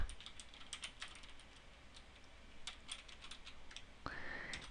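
Quick, light keystrokes on a computer keyboard typing into a document, arriving in short irregular bursts with pauses, close and fairly quiet, with a brief rising tone near the end.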